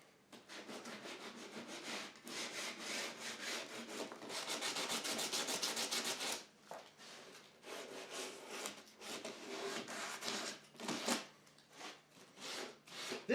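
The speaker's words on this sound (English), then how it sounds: "Rounding those edges over and smoothing them out, that makes all the difference." Wooden door edges are hand-sanded round and smooth with repeated back-and-forth rasping strokes, some fast bursts and some slower scrapes, close up and alone without talk.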